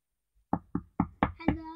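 Five firm, evenly spaced knocks on a door ring out close and loud, the last blending into a short voiced sound.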